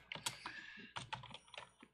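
Typing on a computer keyboard sounds close and fairly quiet, with irregular clusters of sharp key clicks and brief pauses between bursts.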